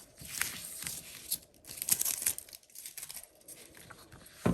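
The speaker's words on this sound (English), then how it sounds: "So I am just going to peel that off." Vinyl stencil backing peeled off a wood sign, close-up crinkling and tearing rustles in uneven bursts with brief pauses, ending in a sharper rip.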